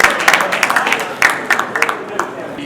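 An audience at an awards presentation claps for a woman coming up on stage, a short burst of scattered applause heard under a speaking voice.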